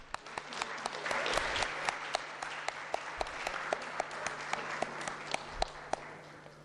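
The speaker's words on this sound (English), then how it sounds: "In your huge round of applause," Applause at a signing ceremony fills a hall, a broad wash of clapping with sharp individual claps standing out near the microphone and a steady electrical hum beneath.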